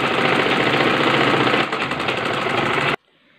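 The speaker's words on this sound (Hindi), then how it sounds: "इसे भी ऐसे ही किनारी बाहर की तरफ छोड़कर तब सिलाई लगाएंगे।" A sewing machine stitches together the panels of a two-panel salwar with a loud, steady mechanical whir. It runs close and continuously for about three seconds, then stops abruptly, leaving near silence.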